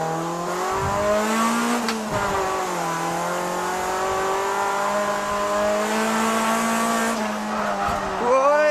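Honda Prelude drifting on a tight mountain touge road, its engine holding a loud sustained drone that swoops up and down with revs, with squealing tire noise and sharp rises near the end.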